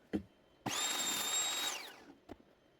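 A power tool cuts a 380 mm (15 inch) trim-quality pine board, one loud steady high-pitched whine of about a second that winds down, with a few short knocks before and after.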